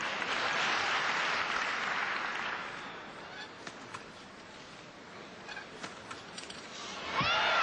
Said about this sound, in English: a wonderful reaction from the crowd